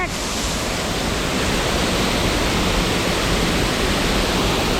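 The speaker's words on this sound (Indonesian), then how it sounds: "Ini air terjunnya." Steady, loud rushing roar of a waterfall along a river in Seoul, a continuous broadband wash of falling water with no breaks, heard close and alone.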